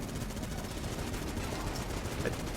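Vulcan cannon firing continuously in Enter the Gungeon, a dense, unbroken rattle of rapid shots filling the whole stretch at steady loudness, with faint game effects layered on top.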